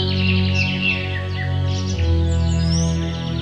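A small cartoon bird chirps in a Hindi animated story, bright tweets and twittering calls repeating over a sustained musical background tone.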